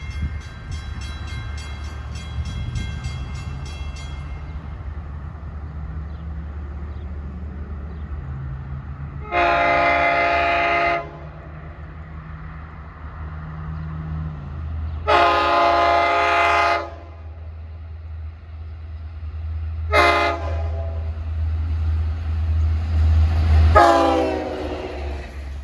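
A Long Island Rail Road train on the eastbound Jamaica to Montauk run rumbles past, sounding several loud, sustained horn blasts in a repeating pattern over a steady low rail roar.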